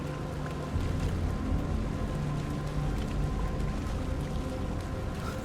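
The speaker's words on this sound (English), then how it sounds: "it started to rain again" Steady rainfall in the video game Alan Wake 2, a continuous dense patter with a low rumbling bed underneath, constant and fairly loud throughout with no talk.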